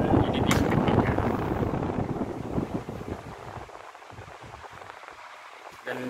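A Toshiba F-ASA50ID or F-ASA60ID electric fan running at speed 3 gives a steady broadband whoosh of moving air. The noise is close and continuous and fades slightly toward the end.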